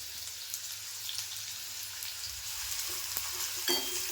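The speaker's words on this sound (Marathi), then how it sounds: "आता मी कांदा पण टाकून घेते फोडणीला" Sliced onions added to a hot cumin tempering fry with a steady, fairly quiet sizzle, dotted with a few sharper crackles and spatters toward the end.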